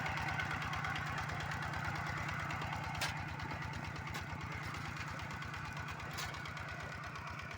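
A walk-behind tractor's small engine chugs steadily in a rice field with a rapid, even knocking pulse, close by and continuous, with a few faint clicks.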